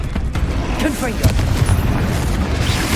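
A Confringo fire spell from Hogwarts Legacy bursts in a deep booming explosion, loud and close, with a rumbling tail and a few smaller cracks.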